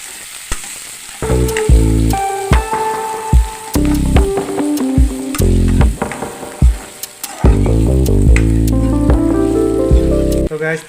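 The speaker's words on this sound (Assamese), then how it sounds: "পিঁয়াজখিনি ভালদৰে ভাজিব লাগিব" Onions frying with coriander powder and cumin, a steady sizzle in the pan with the odd stirring clatter, heard under prominent melodic background music.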